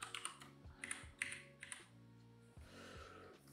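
Rapid clicking keystrokes on an American-layout computer keyboard, close and moderately loud, in quick irregular bursts with short pauses, during a Pico-8 game jam livestream.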